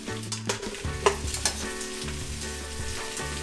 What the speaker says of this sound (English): saute the onions until it gets brown